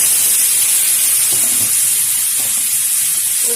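Chopped banana stem and papaya with turmeric powder sizzle in hot oil in a pan, giving a loud, steady frying hiss close by with faint stirring and no voices.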